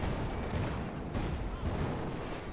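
A field gun fires in a Company of Heroes 2 match, a low rumbling report with booming hits and battle noise sustained throughout, fairly distant and moderately loud.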